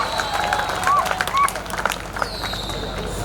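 At an outdoor Diwali celebration in a housing community garden, a crowd gives scattered applause beneath loud chatter and general hubbub, with some children's voices in the mix.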